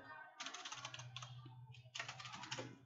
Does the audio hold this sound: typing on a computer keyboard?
yes